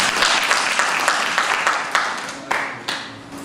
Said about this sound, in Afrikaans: Staan, kyk vir die kamer, klap hande.